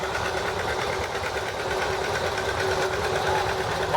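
A 1953 John Deere 50 tractor engine running in a town parade, a steady, close mechanical chugging and rattling drone that holds at an even level throughout, with no talk over it.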